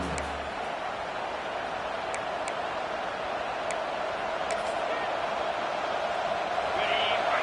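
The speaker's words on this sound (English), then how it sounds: "This crowd, full throat, splitting the eardrums and letting them know it's going to be a long day." A stadium crowd in the College Football 26 video game roars at full throat in a dense, steady wall of noise that holds loud for the whole stretch, with a few sharp ticks poking through.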